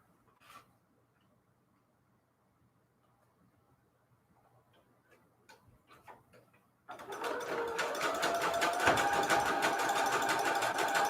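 A sewing machine joins overlapping pieces of lace and fabric trim, first quiet with a few faint ticks and taps, then running fast and loud in a continuous rattling whir.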